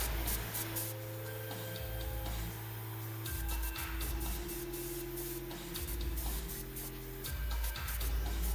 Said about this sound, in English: Then I spray over the area again to get a good flow out.